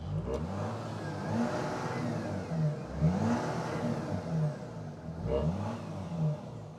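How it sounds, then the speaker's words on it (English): An Audi SQ5 TDI's diesel V6 revs several times at moderate volume, each climb swelling and falling back to idle in a slow, repeated pattern, heard alone without talk. "So let's see what a diesel V6 sounds like."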